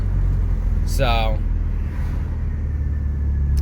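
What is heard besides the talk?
PT Cruiser with Megasquirt engine running while coming to a stop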